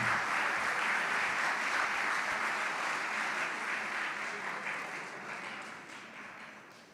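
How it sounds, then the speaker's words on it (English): Audience at a school athletics honours ceremony applauding award winner Alex Borte: a dense, steady clapping sound that slowly fades toward the end, with no speech over it. "Please give a round of applause to Alex Borte."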